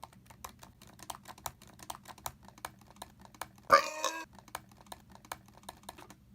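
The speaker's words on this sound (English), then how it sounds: "This keyboard has somewhat of a click to it, and it has more resistance than the previous MacBooks." Typing on a 2016 MacBook Pro keyboard with a slight click and firm resistance, steady close-up keystrokes tapping in quick succession alongside a brief louder burst partway through.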